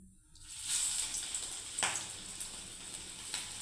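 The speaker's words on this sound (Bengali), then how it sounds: "এবার আমি তেলে ফ্রাই করব" Vegetable cutlets fry in hot oil, two at a time, with a steady hiss and sizzle that rises in the first half-second and holds, with a few brief crackling bursts, close by and without speech.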